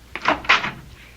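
A door opens in a radio drama, a short close clunk of the latch followed by a louder creak and knock of the door moving, all within about a second, with no voices.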